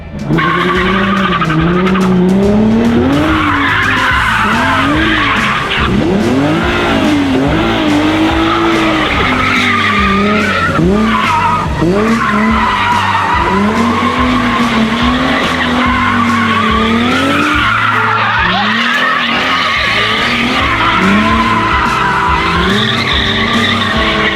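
A drift takeover car spinning donuts on worn, bald tires, its engine revving hard and wavering while the tires squeal and skid continuously, loud and close throughout.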